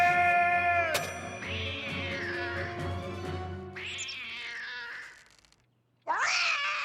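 A cartoon cat meows and caterwauls in loud, drawn-out, wavering yowls, with a long cry, a short break and then a sudden renewed wail near the end.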